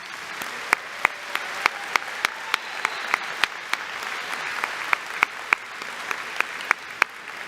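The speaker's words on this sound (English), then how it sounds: "Let's congratulate now all of our graduates with a round of applause." Audience applause fills a graduation commencement ceremony at FHSU, a steady wash of many hands clapping with sharp individual claps popping out in a regular rhythm, moderately loud throughout with no voices.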